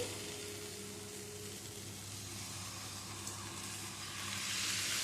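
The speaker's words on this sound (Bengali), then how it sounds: "সবজিগুলো এর মধ্যে ঢেলে দিচ্ছি" Vegetables for a summer mixed vegetable curry hitting a pan of ginger and green chilli paste, giving a broad, steady sizzle that swells louder near the end, faint and even, without speech.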